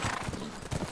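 A quick burst of horse hooves clopping with a short whinny in the video game The Last of Us, loud and close, with no talking.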